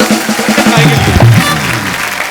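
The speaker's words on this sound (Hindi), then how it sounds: "जोरदार तालियां" Studio audience applause on an Indian comedy talk show, a dense wash of clapping under a brief voice, steady and fairly loud throughout.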